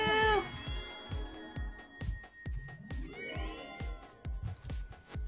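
Cat meows in the online game Tree of Savior, a rising mewing cry near the start and later a second drawn-out meow, set over a steady beat of repeated thumping game sounds and tones.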